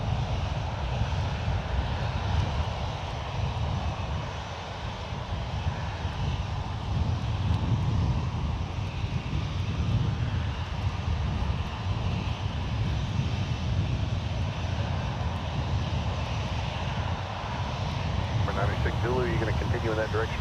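A JetBlue airliner departing runway 1 left at San Francisco International roars steadily throughout as a loud, continuous broadband rumble, with wind buffeting the microphone and some speech mixed in.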